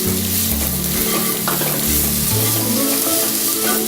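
Steady frying sizzle of onions sautéing in butter with stirring scrapes in a pan, close and continuous, with a low hum of music underneath and no talking.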